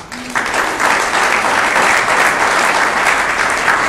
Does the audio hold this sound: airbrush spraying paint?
no